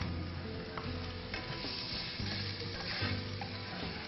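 Papaya goes into a pot for chicken tinola with garlic and ginger, giving a steady sizzle and frying hiss with stirring scrapes, continuous and close, with low tones underneath.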